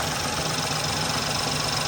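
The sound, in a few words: 2017 Ford Focus engine running and vibrating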